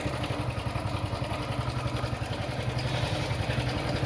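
A Honda motorcycle engine idles steadily close by, warming up after engine repair, a rapid, even low chugging with a slight mechanical clatter.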